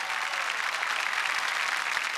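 A studio audience at a Marathi comedy show breaks into strong, continuous applause to welcome an actress, a dense even wash of clapping with no voices on top.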